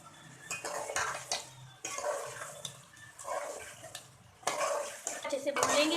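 Tomatoes with salt are stirred in a pan with repeated scraping and clinking of a spoon against metal in bursts, under a faint background sizzle.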